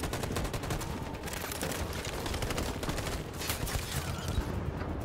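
Dense, continuous gunfire and fusillade bursts during an armed assault in the video game Detroit: Become Human, loud and sustained throughout with overlapping shots.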